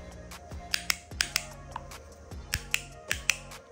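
Sharp, crisp clicks come in quick pairs and bursts, close up and dry, as magnetic paddle shifters on a BMW M car are flicked back and forth repeatedly.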